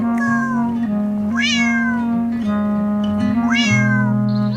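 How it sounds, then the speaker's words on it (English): A cat meows in a farm setting, several drawn-out rising-then-falling calls repeated at a steady pace, close and loud over a sustained low tonal drone. "Meow! Meow! Meow!"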